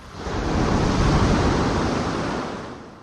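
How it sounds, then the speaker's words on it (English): Pacific Ocean waves and surf rolling in, a steady broad wash that swells up and fades away over a few seconds, close and fairly loud with no voices. "The Pacific Ocean."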